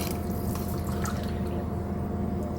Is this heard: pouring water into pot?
yes